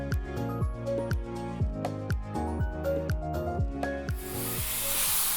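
Bread frying in avocado oil in a non-stick skillet sets off a sudden loud, steady sizzle near the end, after a stretch of plucked background music.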